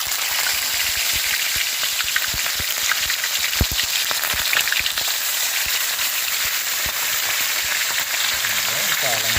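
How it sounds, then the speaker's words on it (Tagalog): Fish fry in very hot oil, which sizzles and crackles loudly and continuously, with occasional sharper pops throughout, no voices. "Sobrang init na. Prito na po."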